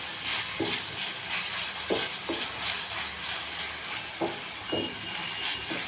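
Ragi sangati ingredients sizzle steadily while frying in hot oil in a pan, with a constant crackling hiss and a few soft stirring scrapes scattered throughout; no voices.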